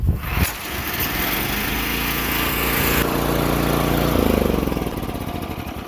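A small engine, recently seized from water in the exhaust and now fixed, runs steadily at close range, a loud buzzing drone with a slight rise in pitch toward the end.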